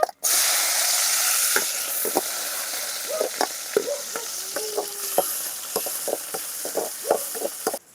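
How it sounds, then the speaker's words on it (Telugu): Chopped onion and tomato frying in oil, a steady close sizzle with repeated clicks and scrapes of stirring, no voices. "ఉల్లిగడ్డలు అయితే కొంచెం వేగినాయి కదా"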